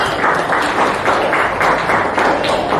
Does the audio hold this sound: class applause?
yes